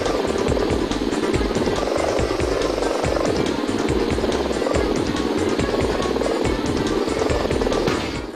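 A radio-controlled toy helicopter in the video game Puchi Copter 2 whirs with a constant fluttering rotor buzz. The sound is loud and steady throughout and fades slightly at the very end.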